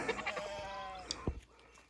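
Sheep on a Turkish village farm bleat in a short nasal call near the end, with quieter animal calls and faint rustling around it in an outdoor setting.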